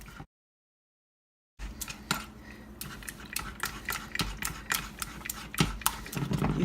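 A spoon stirring a raspberry yogurt mixture with sweetener and xanthan gum in a bowl, giving a run of sharp clinks and scrapes at an uneven pace, close and clear after a short silent gap at the start.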